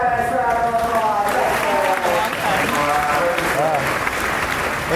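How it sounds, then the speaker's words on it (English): Steady audience applause from a crowd at a live bird show at Animal Kingdom park, continuous and fairly loud throughout, with voices and chatter mixed in. "Nice round of applause."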